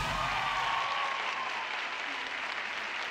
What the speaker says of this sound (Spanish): Recibamos con aplauso al señor Gregorio Pernía.